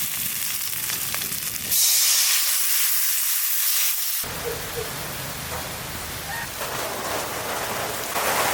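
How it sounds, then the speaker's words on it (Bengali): Water poured into a pan of fried cumin, coriander, turmeric and chilli for a Sonabogo fish curry sets off a loud, sudden hissing sizzle that settles into a softer, steady bubbling fry, close up, with no talking. "মশলাটা ভাজা হয়ে গেছে, এবার জল দিয়ে দেবো"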